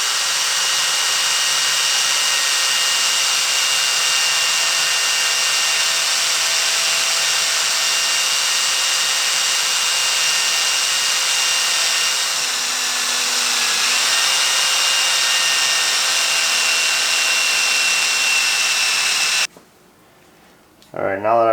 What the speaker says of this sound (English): now that I've got my hole drilled and cleaned out here